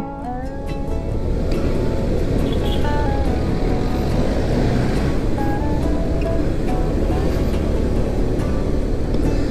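Heavy urban road traffic with cars and many taxis, heard from a Honda Click 125 or Suzuki Burgman 125 scooter on a Baguio to Manila ride, a steady broadband roar of engines and wind with no talk.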